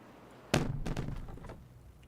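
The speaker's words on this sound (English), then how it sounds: "Yay! Fireworks." Fireworks in the beaver city-building game Timberborn pop with one sharp burst followed by a few softer crackling bangs, fairly close and alone.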